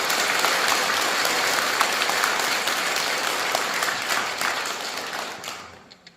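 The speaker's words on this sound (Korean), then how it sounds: "다시 한번 우리 회장님을 박수 한번 부탁드리겠습니다." An audience at a Buddhist dharma service at Bulgwang Temple claps for its president. The dense, sustained round of applause fills the room, then tapers off and fades near the end.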